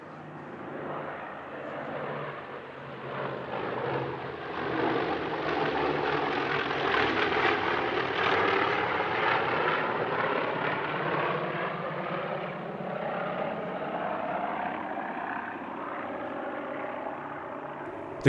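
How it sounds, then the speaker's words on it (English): An S2G Tracker, TBM-3E Avenger and F4U-1D Corsair, piston warbirds in formation at an airshow, pass by with a rising and fading propeller drone, growing louder toward the middle before easing off. "This time an S2G Tracker, TBM-3E Avenger and F4U-1D Corsair."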